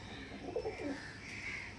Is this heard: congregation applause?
no